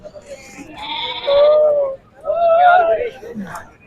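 Two loud, close bleats from goats at a bakra mandi livestock market in Chakwal, each drawn out about a second, with a brief pause between and faint background noise.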